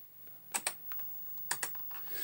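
Keys clatter on a Commodore Amiga 1200 keyboard in a handful of sharp, close clicks, two quick pairs of strikes with lighter taps between, alone in a quiet room.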